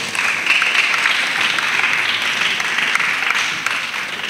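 Children's group applause, a steady dense clapping that stays loud and close throughout with no pause, at a pastor's gathering with child disciples.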